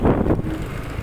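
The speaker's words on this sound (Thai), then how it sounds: "ลมแรง" Strong wind on a rural highway in Sisaket, Thailand, hitting the microphone in a loud low roar that swells during the first half-second, then settles into a steadier rumble, with no voices.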